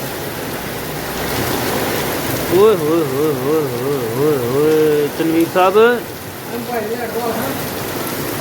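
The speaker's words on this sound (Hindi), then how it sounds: "ये देखें जनाब बारिश बारिश" Heavy rain pours in a storm in Sialkot, Pakistan, a steady broadband hiss throughout, while someone shouts and calls out excitedly over it nearby.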